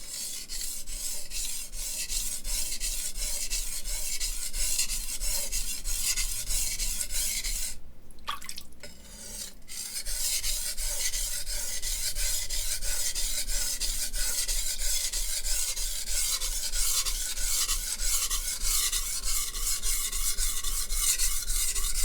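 A tall cleaver blade is rasped steadily along a sharpening stone in long, repeated even strokes, close and continuous, with a short pause partway through as the blade is repositioned.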